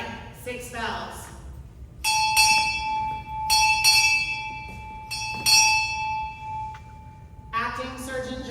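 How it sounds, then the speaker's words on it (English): Ship's bell struck six times in pairs at a Navy change-of-directorship ceremony at Naval Hospital Jacksonville, clear ringing strikes with lingering tone, after a spoken command and followed by more speech. "Time orderly, strike, 6 bells."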